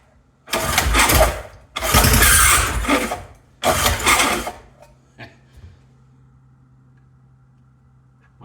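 Three pull-start attempts on a 1975 Briggs & Stratton 3hp small engine: loud, rough sputtering bursts of about a second each that catch briefly and die, separated by pauses, then quiet with a faint low hum.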